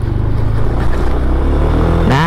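Honda Beat Street 110cc motorcycle riding over a patched road, its small engine droning loud and steady up close, with rising rev tones near the end.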